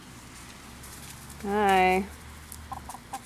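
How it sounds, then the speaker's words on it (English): A chicken on a backyard property gives a single clear cluck-like call, fairly close, followed by a few faint soft clucks, with a brief spoken greeting nearby. "I hear the chickens coming."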